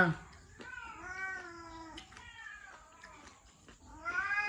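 A cat meows repeatedly up close in a home, long wavering cries with short pauses between them, while someone speaks around the calls.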